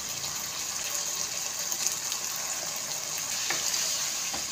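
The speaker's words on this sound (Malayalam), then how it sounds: "ഇനി ഇതിലേക്ക് ഒരു ചെറിയ കഷ്ണം പുളി എടുത്തിട്ട് ഇതൊന്ന് പിഴിഞ്ഞ് ഇതിലേക്ക് ഒഴിച്ചു കൊടുക്കാം" Squeezed tamarind water poured into avial curry, a continuous close wet sizzling and liquid noise with a few faint clinks.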